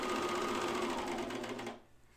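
A 4-thread serger stitches around a round fabric edge for a dress, running as a fast, buzzing mechanical whir close by before stopping abruptly near the end.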